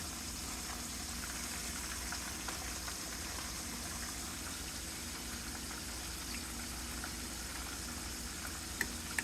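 Deer steaks fry in a pan with a steady, even sizzle that holds at a moderate level the whole time, close by, without speech and with a couple of faint clicks near the end.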